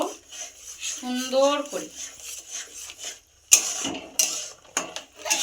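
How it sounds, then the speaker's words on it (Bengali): Semolina being stirred into milk in a pan, with scraping and clinking of a spoon against the pan under a woman's speech, then louder, sharper scrapes after a short pause. "এবার ওই দুধে আমি 5 টাকার সুজিটা পুরো দিয়ে দেব। দিয়ে সুজিটাকে আমি নাড়তে থাকবো"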